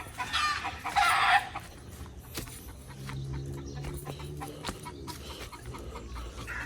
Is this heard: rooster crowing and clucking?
yes